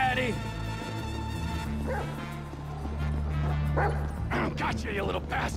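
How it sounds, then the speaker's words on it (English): A dog in the video game Grand Theft Auto V barks and yips repeatedly over a steady low game soundtrack, with a voice talking in the mix. "Doggy! Come on, doggy!"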